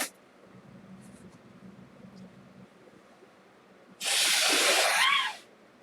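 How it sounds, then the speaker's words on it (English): A short, loud, breathy honk of nose-blowing bursts out after a quiet stretch with faint background murmur, lasting about a second and a half. "Sorry, I had to blow my nose."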